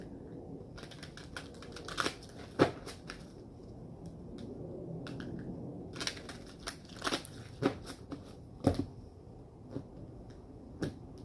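Tarot cards are shuffled and drawn from a deck, making soft, irregular flicks and taps scattered across a quiet room, close and faint.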